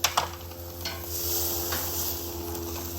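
Hot Italian beer brats sizzling in a pan on a Weber Traveler portable gas grill, a steady close sizzle after a couple of sharp clinks of utensils against the pan.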